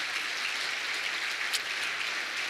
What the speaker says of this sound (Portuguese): E receba os nossos aplausos, Espírito Santo.